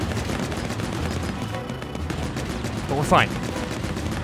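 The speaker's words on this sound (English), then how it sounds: "He's still shooting, stop shooting" Boss enemy in Pikmin 4 firing repeatedly, a dense continuous barrage of shots running under a brief spoken line, with one sharper burst near the end.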